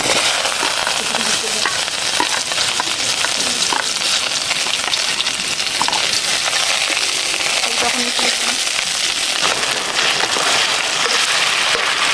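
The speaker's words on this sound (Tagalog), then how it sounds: "Mapansin ko parang palaging itlog niluluto ko ah." Eggs frying in a pan give a loud, steady, close sizzle that never lets up, with faint clinks and stirring sounds and people talking quietly in the background.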